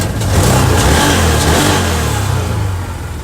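A 2015 Can-Am Commander 1000 side-by-side, running on new spark plugs and plug wires with its original ignition coil refitted, revs loudly and close up in a sustained, rising engine roar with no talk.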